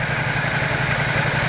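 A 2021 Ducati XDiavel Dark motorcycle idles close by with its stock exhaust, giving a steady, even low rumble with a constant throb and no revving.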